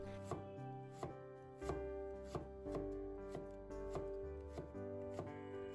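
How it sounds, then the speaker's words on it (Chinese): A knife slices peeled ginger into thin slices on a cutting board, giving a crisp, regular series of close chopping knocks about every half second, with a faint steady hum beneath. "准备去皮的生姜，把它切成薄片。"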